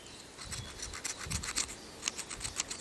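A small toothed flint saws through soft limestone-family stone to cut a bead piece, giving faint, close, rhythmic scratchy rasping strokes.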